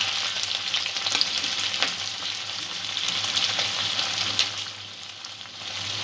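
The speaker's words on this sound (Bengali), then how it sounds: "পেঁয়াজ রসুন কাঁচা লঙ্কাটা 2-1 মিনিট ভেজে নেব।" Onion, garlic and green chilli frying in hot oil, a dense steady sizzle close by with faint occasional stirring, easing slightly near the end.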